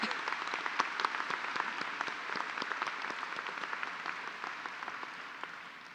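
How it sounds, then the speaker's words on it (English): Applause at a college commencement ceremony for graduates' families and mentors: a dense, steady crowd clapping that fills the hall, strong throughout and easing slightly toward the end. "they deserve an erupting round of applause"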